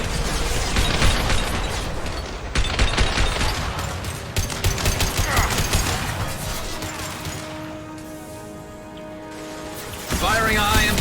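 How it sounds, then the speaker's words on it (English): Rapid, heavy gunfire bursts from the video game Mass Effect, loud and dense over roughly the first eight seconds, then a brief lull before another sharp burst. "Firing a high impact shot."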